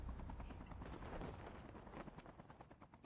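Helicopter in a video game, a continuous rotor chop and engine roar, loud and steady at first, then thinning toward the end with no talk over it.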